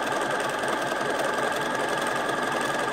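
A Bernina Activa 130 sewing machine runs an overlock stitch at a short stitch length, a fast steady mechanical whir with rapid needle chatter, close and continuous, with no talking.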